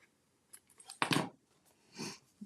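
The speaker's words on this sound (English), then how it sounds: "I'm just going to trim the ends" Scissors trim the ends of card paper for a handmade Christmas card: a few light, crisp snips close by, with one brief cluster of cuts and a softer snip a second later in an otherwise quiet room.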